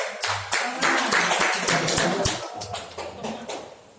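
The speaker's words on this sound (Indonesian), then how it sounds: "Tepuk tangan dong." Applause from an audience at a PGRI teachers' association branch members' meeting, dense clapping from many hands filling the room steadily throughout, close and fairly loud.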